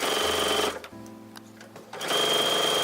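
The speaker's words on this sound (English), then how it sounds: "I'm putting my 1/4-inch guide right on the edge of my fabric here, and we can begin stitching" Sewing machine stitching fabric for a placemat with a quarter-inch guide, a loud close mechanical whir that stops briefly midway, leaving a quieter hum, then resumes at full speed.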